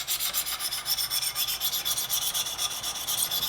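A hunting knife blade is scrubbed back and forth on the stones of a Wicked Edge sharpener, giving a steady, rhythmic gritty rasp of close, quick strokes with no talking.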